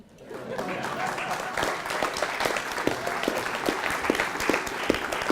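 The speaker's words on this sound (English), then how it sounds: "You could clap." Audience clapping for panelists being introduced at a museum inclusion discussion, swelling quickly from quiet into sustained applause with distinct individual claps standing out near the front.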